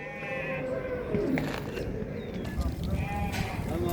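Sheep and lambs bleating at a small-livestock market in Sungurlu, Çorum, several calls overlapping with background crowd noise and people talking nearby.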